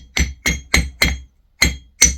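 Six sharp metallic strikes of a 1 kg hammer on a Parkside blacksmith's anvil ring out in an uneven rhythm, each with a bright ringing tail and a short pause before the last two.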